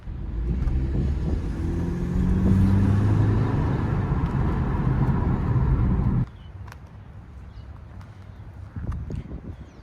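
A BMW 4 Series F32 LCI fitted with an M Performance exhaust gives a loud, steady rumbling drone that suddenly drops to a quieter idle partway through, with a brief swell near the end.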